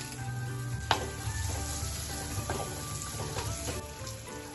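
Onion, green chilli and curry leaves sizzle steadily in hot oil, a close, continuous crackle with a sharper pop near the start and scattered spatters throughout, no voices.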